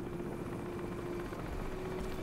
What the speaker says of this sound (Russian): я слышу, вертолет летит